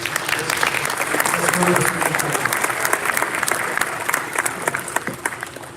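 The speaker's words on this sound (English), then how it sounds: "let's give a round of applause" A crowd at a spring signing day for student athletes breaks into sustained applause, loud overlapping claps filling the room steadily, with a voice briefly heard underneath.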